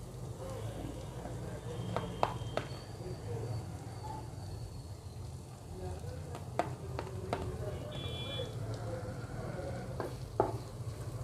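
Chopped onions frying in a pan for veg momos give off a steady, moderate sizzle, with occasional sharp clicks of a spatula stirring against the pan.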